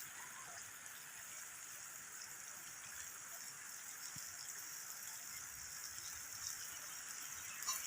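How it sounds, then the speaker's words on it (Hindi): Continuous dense hiss of heavy rain pouring down in Punjab, Pakistan, steady and unbroken throughout. "बारिश तेज़ हो गई है, बहुत ज़्यादा तेज़ हो गई है बारिश।"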